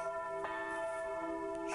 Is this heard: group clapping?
no